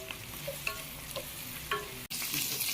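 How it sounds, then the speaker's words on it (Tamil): Onions and three green chillies sautéing in hot oil while being stirred for a Tamil-style intestine curry, with a steady soft sizzle broken by brief clinks of a spoon against the pan. "எண்ணெய் நல்லா சூடாகிட்டு இப்போ நம்ம என்ன செய்யணும் வெங்காயத்தை போட்டு சரி நல்லா வதக்கி எடுப்போம்"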